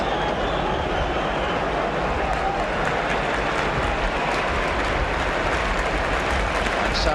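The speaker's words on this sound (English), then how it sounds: "Sammels, having retrieved that ball for Swindon, getting a round of applause as he does so" Football stadium crowd at a 1969 Arsenal versus Swindon Town League Cup match, a broad, steady wash of distant applause and crowd noise holding evenly for several seconds.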